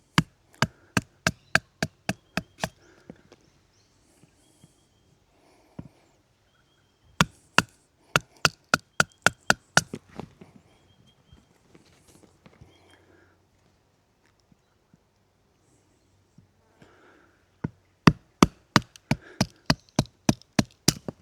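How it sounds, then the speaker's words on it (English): Steel knife blade driven through wood with a stick baton to rough out a mallet handle, a fast series of sharp, close wooden knocks in two bursts with a quiet pause between. "Now we use our knife and our other stick, and we're just going to batten off everything that's not a handle."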